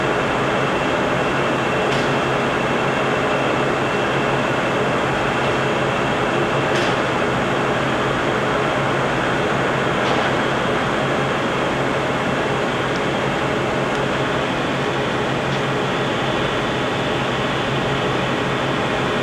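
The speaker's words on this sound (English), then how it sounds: "We've now engaged the lead screw and he's going to hit the half nut here." Steady, loud mechanical hum and drone of a 31 by 132 inch Poreba heavy duty lathe threading with the lead screw and half nut engaged, continuous, with a few faint ticks.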